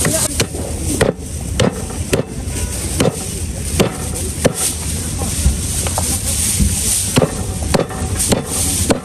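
A cleaver chops through a pork hind leg in a series of loud, close thuds, struck about once a second and then faster, over a noisy room.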